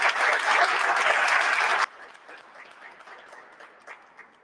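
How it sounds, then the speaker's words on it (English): Audience applause for an Irish dance academy group at a St. Patrick's Day event: a loud, dense burst of clapping that cuts off sharply, leaving faint scattered claps and room noise. "Let's have another round of applause for the Rochester Academy of Irish Dance."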